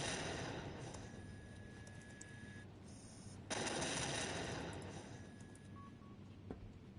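Airship turrets fire in Batman: Arkham Knight with dense, rapid automatic gunfire that rattles almost continuously and stops briefly once before resuming, loud and close with no talking.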